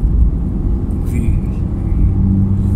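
A 2021 Suzuki Swift on a test drive gives off a deep, steady engine rumble heard from inside the cabin, loud and low-pitched with only slight swells in level over a few seconds.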